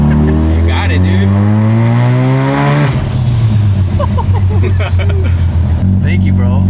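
Mazda RX-7 engine pulling hard under boost, a loud close rising rev that drops sharply near the three-second mark as the blow-off valve vents, then settles back into steady engine drone with people talking over it.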